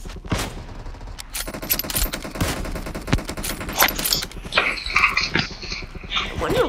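Rapid, continuous gunfire from a gun in PUBG, dense overlapping shots with sharp cracks throughout, loud and close.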